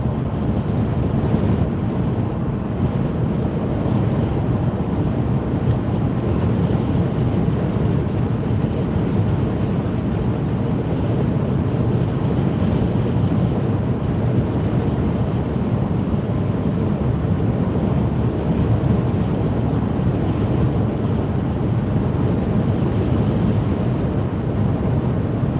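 Strong wind buffets a car on a UK motorway at night between Wigan and Ashton-under-Lyne, a constant loud low roar of wind and road rumble with no letup.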